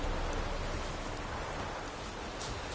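Steady rain pours down in a medieval fantasy game world, a constant, even hiss of drops with no breaks, moderately loud and filling the scene on its own.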